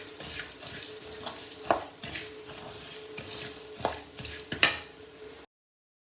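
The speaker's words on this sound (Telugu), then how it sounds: "ధనియాలు వేగిపోయినాయి" Coriander seeds roast in a pan with a little urad dal and chana dal, a spoon stirring and scraping through them in a steady rhythm of close metallic scratches and rattles before the sound cuts to silence.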